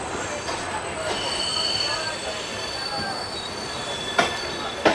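The 12838 Puri Howrah Superfast express runs on its rails with a steady loud rumble and high metallic wheel squeal, plus a couple of sharp clanks near the end, heard from inside a coach.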